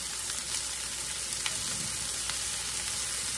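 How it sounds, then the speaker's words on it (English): Jalapeño sautéing in a pan for Texas red rice, a steady close hiss of frying with a few sharp crackles and pops scattered throughout, no voices. "Let that saute up in there."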